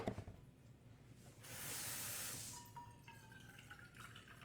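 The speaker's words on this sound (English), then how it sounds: "I'm going to add in a cup of filtered water" Filtered water is poured from a cup into a soup pot of turkey curry soup, a short rushing splash that swells and then fades into small drips and trickles, quiet and close with no voices.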